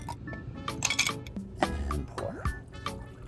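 Ice cubes clinking and clattering into glasses for margaritas, a quick run of bright knocks and tinkles close up with some wet liquid sounds mixed in.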